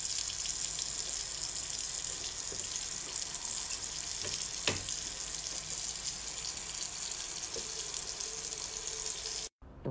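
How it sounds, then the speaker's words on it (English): A tap runs steadily into a sink for hand washing, giving a continuous close hiss of flowing water with a few faint knocks, then an abrupt cutoff near the end. "Please, I just wanted to wash my hands."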